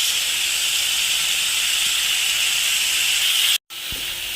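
Grated beetroot added to a hot pan with sautéed onion and tomato for beetroot chutney, giving a loud, continuous sizzling hiss that cuts out briefly near the end and resumes.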